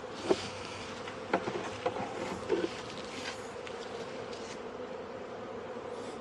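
Honey bees buzz steadily around an open beehive during feeding, a continuous droning hum with a few brief louder passes of individual bees close by.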